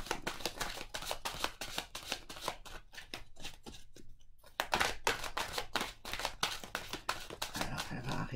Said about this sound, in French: on va tirer la carte doucement